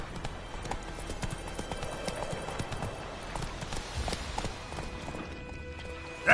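Hoofbeats of Roach, the horse in The Witcher 3, galloping in a steady rapid clip-clop rhythm throughout, moderately close, with game ambience underneath and a brief louder burst at the very end.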